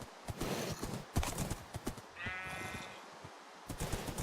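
Minecraft horse noises in a game world: hollow clip-clop hoofbeats and a bleating whinny near the middle, fairly close and clear over a steady game background, with no talking.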